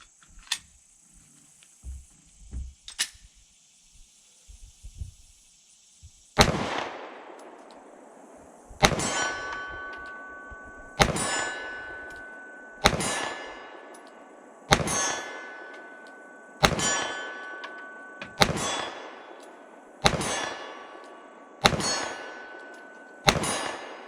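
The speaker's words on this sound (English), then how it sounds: "let's see how well we can shoot this thing out a little farther. We'll try that 25-yard plate." Several pistol shots from a Glock 48 with a PSA micro dagger C-1 comp slide, each followed by a ringing clang from a steel plate at 25 yards, evenly spaced with quiet between hits.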